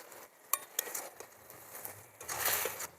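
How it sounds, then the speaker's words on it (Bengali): Chopped ridge gourd is tossed into a pan for a vegetarian mixed-vegetable labra, with a soft, close sizzle under a few sharp utensil clinks and scrapes, fairly quiet overall. "এবার দিয়ে দেবো কেটে ধুয়ে রাখা ঝিঙেগুলো দিয়ে দেবো কেটে ধুয়ে রাখা চুরুলগুলো"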